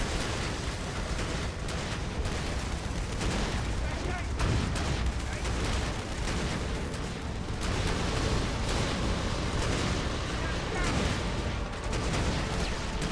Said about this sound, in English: Infantry was just vaporized by an avalanche of thermobaric rockets.